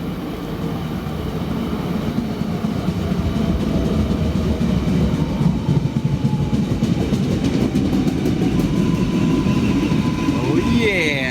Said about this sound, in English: The train bound for Munsan is now approaching.